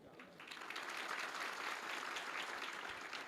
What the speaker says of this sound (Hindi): ताली बजानी है तो ढंग से बजाओ